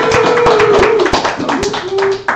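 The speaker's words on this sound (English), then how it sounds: "This is a little weird, clapping in real life." A live audience claps in sharp scattered bursts at an art stream event, heard under ongoing talk from a presenter.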